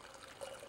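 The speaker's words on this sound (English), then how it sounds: "You pour your brandy." Brandy pours in a thin, steady trickle into a steel two-handled cup, a faint liquid dribble that brightens slightly toward the end, heard alone without talk.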